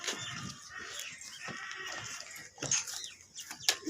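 Goats at an outdoor livestock sale in Pakistan, several bleats and calls mixed with scattered chicken clucks and general farmyard bustle, fairly close, with no clear talk.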